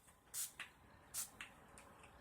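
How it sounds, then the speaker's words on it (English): Two quick pairs of short, bright hissing sprays of makeup setting spray a second apart, close by and quiet, with nothing else around them. "I'm just going to set it with some setting spray."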